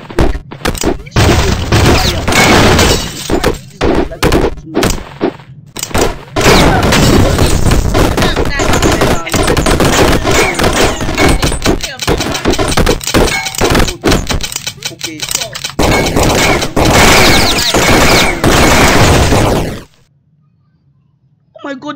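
Rapid gunfire from a Flash shooting video game: loud bursts and single shots crowd the clip with thuds and impacts, a voice talks over the action, and it ends in near silence.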